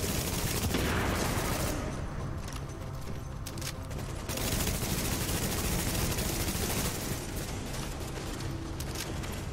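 Sustained automatic fire from an AK rifle in The Division video game, a steady dense stream of shots mixed with battle noise, held at an even level from start to finish.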